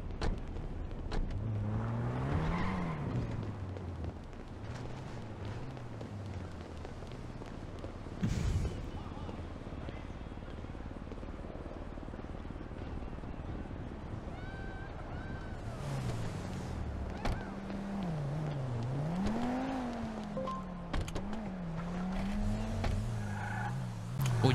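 A Daewoo car driving, with a steady engine and road drone that rises and falls as the driver shifts and changes speed, plus some wind noise, and people talking in the cabin now and then.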